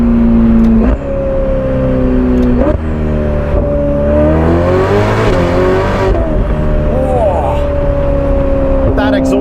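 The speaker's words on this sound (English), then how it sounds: "That exhaust system." A Novitec-tuned Ferrari F8 Spider exhaust, loud and close, with the engine revving up and down in sweeping rising and falling tones, sharp blips between, and a voice talking over it.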